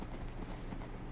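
A horse's hooves clip-clop in Minecraft, running steadily and close, with a dense, even patter that never lets up.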